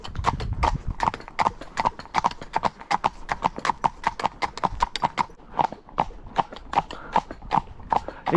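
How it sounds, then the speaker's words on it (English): Horse hooves clip-clop steadily and close during a holiday ride in Crete, an even rhythmic walking gait of crisp knocks on hard ground, continuing throughout with faint background sound. "Now look at my horse there, Amigo, turning so lightly."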